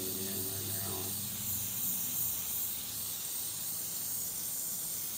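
Continuous broad hiss of an airbrush spraying alcohol inks with the compressor air pressure set too high, steady and close throughout, with a brief voice at the start.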